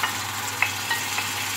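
Onions, garlic, ginger, spices and tomato sauté in a pan for arvi leaf rolls, giving a steady close sizzle with a few light spatula scrapes and clicks.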